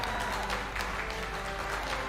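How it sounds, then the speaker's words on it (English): Steady applause from a crowd, dense and continuous, filling the whole moment with no voices standing out. "I choose to believe that the applause is for me."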